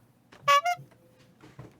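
A car horn gives two short, fairly loud honks close together, followed by quieter muffled background noise.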